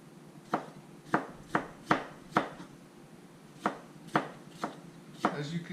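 A sharp knife chops through red cabbage on a board in about ten crisp, evenly spaced strokes, close and clear, with no talking.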